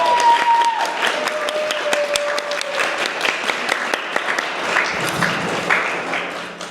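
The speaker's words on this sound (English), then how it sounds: "Please join me in thanking them with a round of applause." An audience at a National Honor Society induction ceremony claps steadily, a dense patter of many hands filling the hall at moderate volume throughout, with a faint tone briefly sounding early on.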